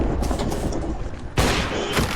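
A burst of heavy gunfire-like booms and rumbling blasts from a video game explosion, loud and continuous, with a sharp surge of explosive noise partway through.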